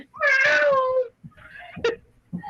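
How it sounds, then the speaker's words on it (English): A domestic cat screams with one long, loud, wavering meow, then gives shorter, weaker cries, close and alone with no talk. "Somebody has a cat and it's screaming."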